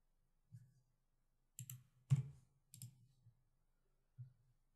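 Soft clicks of a computer mouse, a few single and double clicks spread out at close range in a quiet room.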